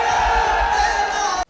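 Crowd at a Pakistani political rally addressed by Prime Minister Shehbaz Sharif, a loud, sustained roar of cheering and shouting from a large gathering that continues steadily before cutting off abruptly.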